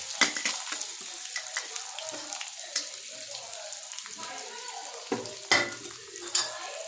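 Onions frying in oil in a pan while cooking biryani, a steady close sizzle broken by sharp clinks of stirring against the pan, with a voice talking at times.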